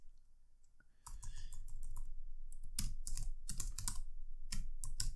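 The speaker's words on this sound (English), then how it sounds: "So let's type that in, Tim" Rapid clicking keystrokes come from a computer keyboard, close and fairly quiet, with typing that runs steadily after a brief silent start.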